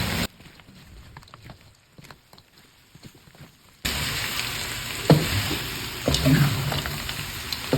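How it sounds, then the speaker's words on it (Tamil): Butter garlic cuttlefish stirred in a hot pan over low heat: a quiet start gives way to loud, steady sizzling with occasional spoon clinks and scrapes close by. "லோவில் வச்சுட்டு இதை நல்லா மிக்ஸ் பண்ணி எடுக்கணும்"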